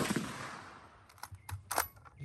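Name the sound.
M1891 long rifle gunshot at 100 yards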